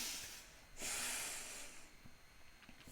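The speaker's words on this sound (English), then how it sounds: "Take a breath" A single slow, deep breath drawn in and let out, soft and close, with a hiss of air over a quiet background.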